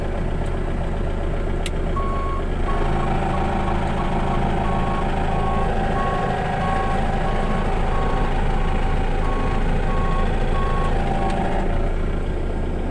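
A Manitou telehandler in reverse sounds a repeating electronic reversing beep at a regular rhythm over its loud, close idling diesel engine. The beeping lasts most of the stretch before stopping.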